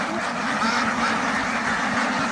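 A large flock of ducks raised for meat keeps up a dense, continuous quacking chorus, loud and close, with overlapping calls and no talking.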